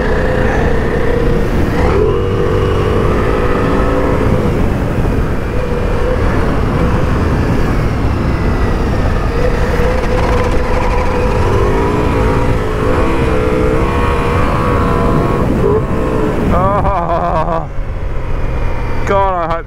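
A Ducati Multistrada V4 Rally adventure motorcycle's V4 engine revs hard while being ridden, a loud continuous drone with rising and falling pitch under steady wind rush throughout, shifting at the end.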